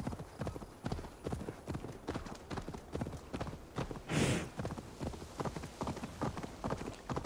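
Horse hooves clip-clop in a steady, rapid rhythm while riding through the Assassin's Creed Valhalla video game, continuing throughout at moderate loudness with a brief whoosh midway.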